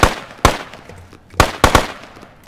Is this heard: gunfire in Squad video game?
yes